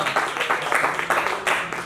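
Audience clapping at a live poetry and comedy show at La Vie En Rose, a dense, steady patter of hands lasting a couple of seconds with swelling bursts.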